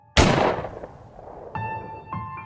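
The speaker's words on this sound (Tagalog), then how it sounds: "Isang malakas na putok ng baril ang umalingaw sa katahimikan ng gabi." A single loud gunshot cracks out as a sound effect in a Filipino horror story, a sharp close blast that rings and fades, followed by two faint tonal beeps.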